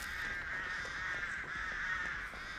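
Crows cawing in the video game Dead by Daylight, a continuous harsh chorus of several birds, steady and moderately loud without any talk.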